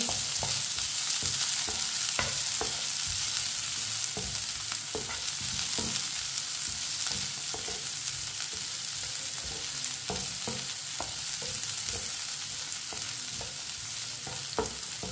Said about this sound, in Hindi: एक बारीक कटा हुआ प्याज, मिक्स कर लेंगे।